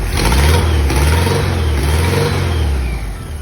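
A 1971 Volkswagen Thing engine runs loud and close right after starting, a steady rumbling idle with a slight rise and fall in revs throughout.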